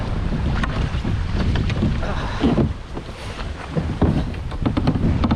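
Strong wind roars across the microphone over open water, with gusty buffeting and a constant rushing noise, no voices.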